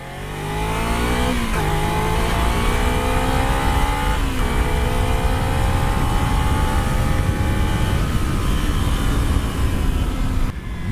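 A Kawasaki Z250 motorcycle accelerates while being ridden, its engine note climbing steadily through several gear changes, loud and close with constant wind and road roar.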